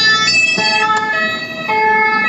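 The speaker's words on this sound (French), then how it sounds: "C'est rarement bon signe quand 2 ambulances" Two ambulances pass on a street with wailing sirens, a loud, close, high-pitched tone that rises and falls without a break over the short stretch, with some traffic noise underneath.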